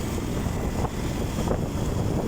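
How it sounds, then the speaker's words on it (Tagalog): Strong wind gusting beside a roadside gutter, a steady loud broadband rush with no voices. "Lakas ng hangin mga lodi"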